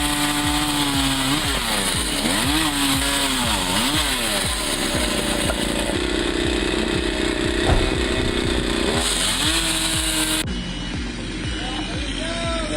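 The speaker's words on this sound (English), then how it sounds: "Turning a regular chainsaw into a fixed cutting station is pure ingenuity." A regular chainsaw rigged as a fixed cutting station mills wood, its engine droning loud and steady throughout with rising and falling revs as it bites into the log, then dropping off near the end.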